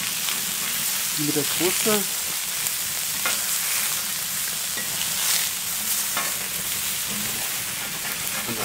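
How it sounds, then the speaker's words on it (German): Tuna and giant prawns with oil poured over them on a grill plate, sizzling loudly and steadily up close for several seconds, with brief speech and a few scraping touches over the sizzle. "Dann packen wir hier noch hier auf unsere kleinen Gambas."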